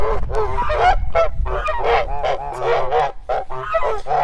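Several Kholmogory geese honk loudly and repeatedly at close range, their calls overlapping in a busy, continuous chorus.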